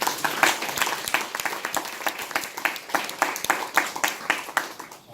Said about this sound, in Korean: 우리 아내들을 위해서 박수 한번 주세요